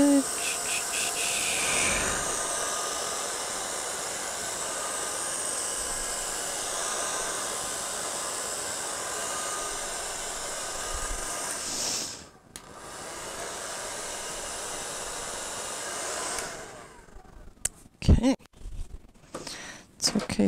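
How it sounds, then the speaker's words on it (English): A small handheld air blower runs steadily over freshly poured pink acrylic paint in a Dutch pour, a continuous close hiss that cuts out briefly, resumes, then gives way to scattered clicks and handling noises near the end. "Nothing my little trusty blower can't fix."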